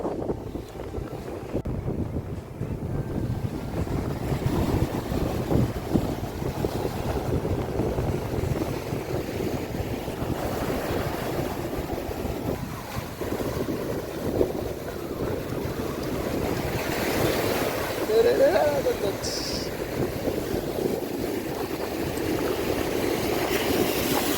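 At the sea shore at Dhanushkodi, wind buffets the microphone and waves rumble in a steady, broad wash of noise with a few louder gusts, and no talking.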